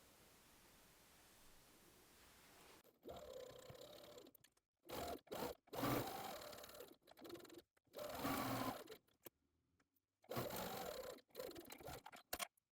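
A sewing machine stitches along the curved edges of fabric tea towel straps, in several short bursts separated by pauses, quiet and close, over a faint background hiss.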